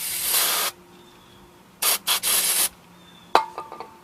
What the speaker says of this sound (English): I'm gonna do some brake cleaner.